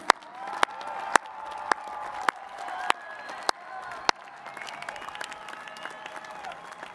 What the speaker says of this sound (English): Let us have a round of applause for our master's candidates.